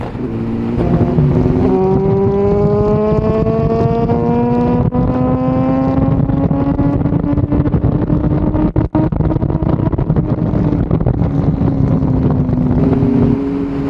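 A Honda CBR954RR FireBlade motorcycle on the move, its engine note climbing steadily through the gears under heavy wind roar, loud and close throughout with brief dips between shifts.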